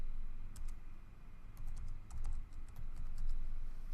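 Quick, light keystrokes on a computer keyboard as a password is entered, in a few short bursts of clicks against a low steady room hum, with no talking.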